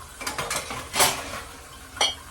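Dishes, pots and utensils being washed in a home kitchen: a few sharp metallic clinks and clatters, one louder knock in the middle and another near the end, over faint running background noise, with no voices.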